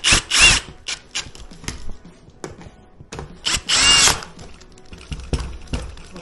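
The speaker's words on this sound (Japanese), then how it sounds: "ドリルで。" A power drill drives screws into a wooden bunk bed being assembled. It gives two sharp, close whirring bursts, one near the start and one in the middle, with clicks, knocks and handling noises in between.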